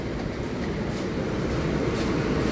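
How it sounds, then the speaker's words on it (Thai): A continuous, loud low rumble of an underground metro train on the Bangkok MRT Blue Line moving along the rails, heard up close without pauses. "ตอนนี้เราขึ้นรถไฟฟ้าใต้ดินนะครับ"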